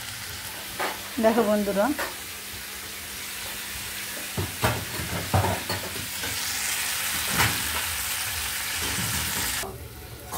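Cumin, chili, ginger and garlic paste frying in hot oil, a steady loud sizzle with stirring scrapes and brief talk at the start.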